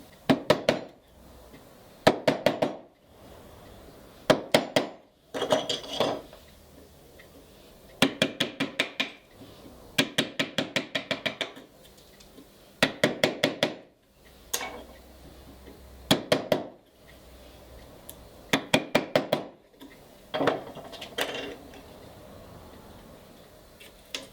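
A chisel is struck repeatedly to enlarge a tenon hole in wood, giving bursts of sharp rhythmic knocks in quick clusters, separated by short pauses, close and crisp.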